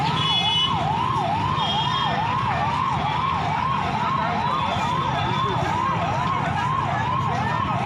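A loud, close police vehicle siren wails in a fast, regular up-and-down cycle that never stops, over a low rumble of traffic, during a police demolition drive in Halvad.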